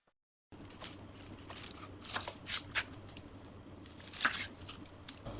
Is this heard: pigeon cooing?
no